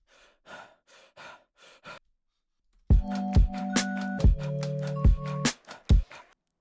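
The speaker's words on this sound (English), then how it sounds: "I brought in these breath samples" Breath samples for a music beat: a run of short, soft breaths alone, followed by louder, sharper breaths layered over a sustained low tone and chime-like notes in the mix.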